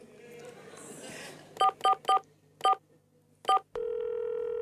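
Phone keypad tones dialed in a quick series of five bright beeps with short gaps, followed by a steady dial or ringing tone, over faint background murmur in a comedy sketch.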